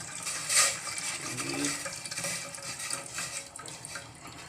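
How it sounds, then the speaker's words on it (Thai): Tamarind water poured into a pot of southern Thai sour curry with shrimp and pineapple, a continuous splashing, trickling pour heard up close with no talking. "น้ำมะขามใส่ลงไปเลยครับ ใส่ลงไปเลย"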